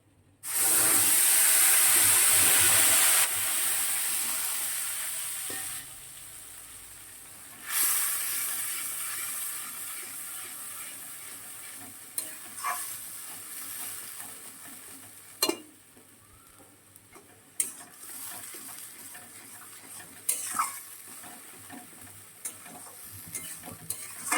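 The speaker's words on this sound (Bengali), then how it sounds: "দুটো শুকনো লঙ্কা, আর পেস্টটা এবারে দিয়ে দিচ্ছি।" Spice paste and dried red chillies drop into hot oil with a loud burst of sizzling that fades into a quieter crackle, broken by sharp spatula scrapes and stirring knocks.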